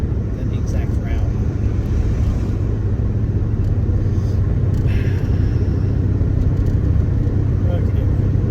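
A van with broken springs rolls slowly over a bumpy road in Apache County, Arizona, giving off a constant loud low rumble and road noise while someone talks over it.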